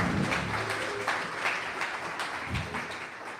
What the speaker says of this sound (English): Let's give Zara a round of applause.